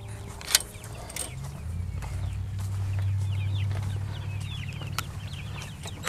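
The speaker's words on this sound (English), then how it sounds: "Hey, chickens." Chickens cluck softly in the background while a low engine hum drones steadily, with a few scattered taps and rustles nearby.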